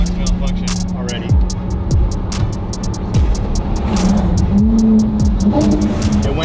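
A Lamborghini SVJ engine pulls out into heavy traffic, its low steady drone rising in short surges with quick pitch sweeps as gears change, loud and close throughout.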